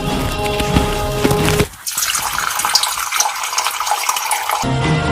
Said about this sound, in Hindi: देखिए बोतल, अब इसमें भरता हूँ।